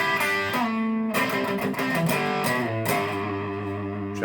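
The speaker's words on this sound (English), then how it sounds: "Here it is with the right hand distortion on full." Les Paul electric guitar through a King of Tone pedal with the right-hand distortion channel turned fully up, playing a short run of thick, saturated notes and chords, loud and close with no talking.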